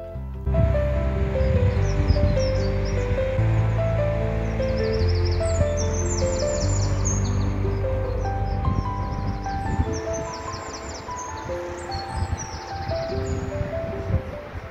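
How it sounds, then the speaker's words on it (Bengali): Morning birdsong heard from a balcony in England, several birds chirping and trilling in overlapping phrases, some near and some farther off, over a steady rustling background, with no talking. "এত সুন্দর পাখির ডাক শুনতে পেলে না"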